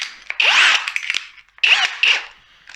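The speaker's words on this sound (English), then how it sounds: "spade bit right in the centre, drill that out" A power drill boring a hole with a 19mm spade bit for a door latch plate, two short whining bursts close up, each under a second long and separated by a brief pause.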